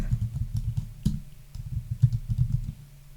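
Rapid keystrokes on a computer keyboard as a keyword search is entered, a close, irregular run of soft clicks and taps over a quiet background, without any speech.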